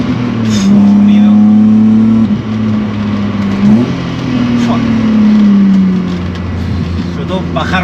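A BMW E30 with a swapped-in M52B28 inline-six drives on a road, its loud steady engine note rising and falling through downshifts, with a brief blip around the middle and continuous road noise underneath.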